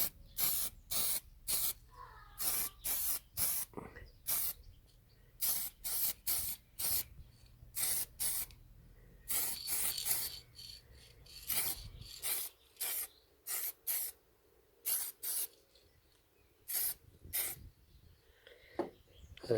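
Spray paint hisses in repeated short bursts while a final coat goes onto a Majorette Mercedes 350 SL die-cast model, with close, sharp blasts at an irregular rhythm and quiet gaps between them.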